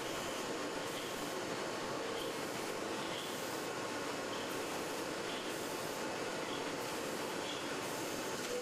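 A booklet packaging machine runs in a print room, a steady mechanical whir and hum with faint periodic clicks repeating about once a second, continuous and even throughout.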